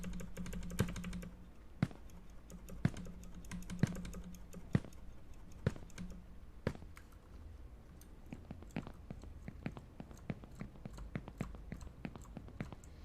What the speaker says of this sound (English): I don't think there's a single normal key that I haven't pressed yet.